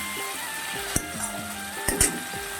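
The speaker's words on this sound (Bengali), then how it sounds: "টমেটো কুচি করে রেখেছি সেটাও দিয়ে দিচ্ছি একটু মশলাটা নাড়িয়ে চাড়িয়ে কষিয়ে নিই" Spices and chopped tomato fry and sizzle in a pan while being stirred, with several sharp scrapes and clinks of the spoon against the pan and no talking.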